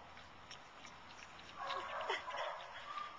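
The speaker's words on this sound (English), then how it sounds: "So these are Chickadee's puppies, and their very, very first meal" Newborn puppies feeding for their first meal make faint squeaks, whimpers and small yips, rising in the second half against a quiet background hiss.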